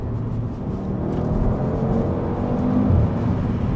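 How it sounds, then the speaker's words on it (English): A wrecked Audi RS3 on H&R springs being driven, its exhaust giving a low, steady engine rumble and road drone heard from inside the cabin, rising slightly toward the end. "And that exhaust, I don't know if the mic's picking it up."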